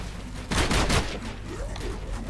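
A short burst of M1 carbine fire in the video game Zombie Stories, a loud cluster of rapid shots lasting under half a second, followed by quieter in-game background noise.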